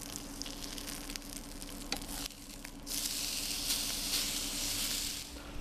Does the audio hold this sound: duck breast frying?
yes